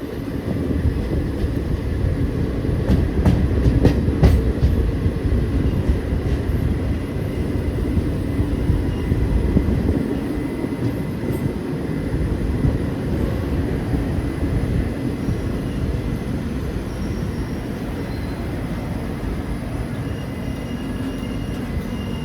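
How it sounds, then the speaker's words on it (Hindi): Lucknow–Meerut Rajya Rani Superfast Express rolling along the rails during heavy rain, a steady loud low rumble with wheel clatter that holds throughout, with no voices. "ट्रेन का पहला स्टॉपेज बालामो जंक्शन और सामने खड़ी हुई है जम्मू तवी कोलकाता एक्सप्रेस"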